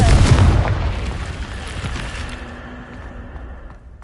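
A Confringo blasting spell explodes in Hogwarts Legacy on PS5, a loud booming burst at the start that decays into a long rumbling tail with a faint steady tone underneath.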